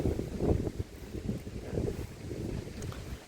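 Cold wind blows outdoors at a rural home where floor tiles are being laid, buffeting the microphone in steady low rumbling gusts with no talk over it.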